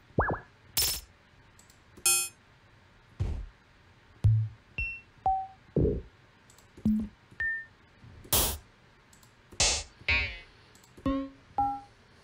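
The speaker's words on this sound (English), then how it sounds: "I'm going to make a little drum machine with FM sounds" FM-synthesized drum machine hits programmed in Ableton Live sound one after another in a loose rhythm: sharp clicks, pings, boings and short tonal blips, spaced and clean against near silence.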